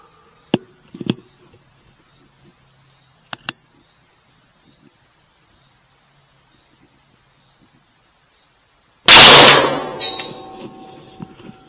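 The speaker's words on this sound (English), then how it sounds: "we're going to fire the first shot, just make sure we're actually on the steel" A rifle shot rings out at a steel target while zeroing a thermal sight, a single loud sharp crack with a decaying ring, following a few faint clicks and a steady high insect-like hum.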